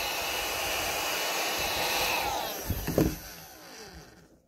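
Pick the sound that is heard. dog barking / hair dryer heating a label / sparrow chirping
hair dryer heating a label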